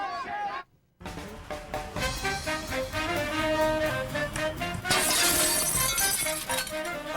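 Glass shatters in a TV commercial for a glass company aired during a wrestling broadcast, a loud bright crash with jangling shards over music and voices, following a brief near-silent gap.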